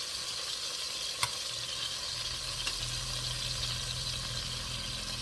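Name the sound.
oxtails frying in a pan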